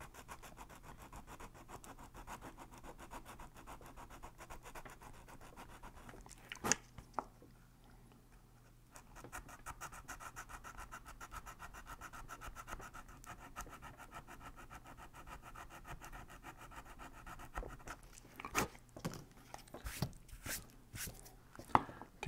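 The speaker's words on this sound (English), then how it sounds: "I'm gonna go ahead and do the same thing and scuff the tank in the areas where I'm gonna secure the fuel line clips" Steady dry rubbing and scraping as a fuel tank surface is scuffed by hand where fuel line clips will be glued on, continuous and fairly quiet, broken by a pause and a few sharp knocks toward the end.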